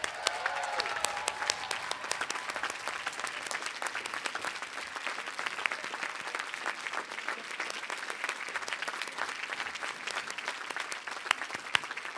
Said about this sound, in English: recognize all the parents and family members and loved ones and friends joining us today with a standing ovation